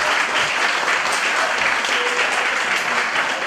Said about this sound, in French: Je me suis permis de vous demander de l'applaudir encore une fois,